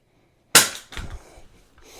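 A modified SIG P320 pistol hits a carpeted floor with a sharp, close impact, followed by a duller thump and a short clatter as it settles.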